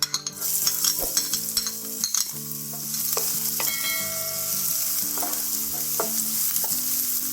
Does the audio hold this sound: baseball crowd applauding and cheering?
no